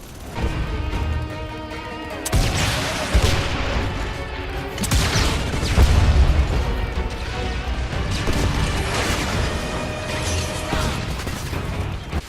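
Explosions and gunfire from the video game Starhawk's battlefield combat crash and boom in dense succession, with sharp impacts and rumbling blasts overlapping throughout.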